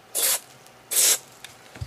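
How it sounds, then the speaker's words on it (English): Two short, crisp hissing bursts of lubricant spray go into an Alpha 6 (Haiyan's) speedcube, about a second apart and close by, followed by a couple of faint clicks. "I'm going to go ahead and spray 2 small sprays"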